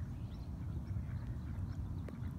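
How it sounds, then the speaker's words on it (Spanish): Wild ducks quacking at a river below a dam, a low continuous murmur of calls from a group at some distance, steady throughout without speech. "Ahí están los patos."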